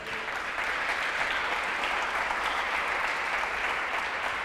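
A church congregation applauds at a worship service, a dense, sustained wash of clapping that stays steady and loud from start to finish.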